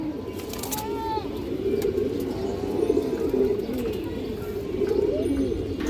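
A Silver Khaki pigeon coos in low, repeated rolling calls close by, with a few higher chirps from other birds and faint background noise throughout.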